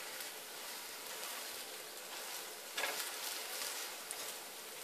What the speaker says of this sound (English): And let it fry on the other side.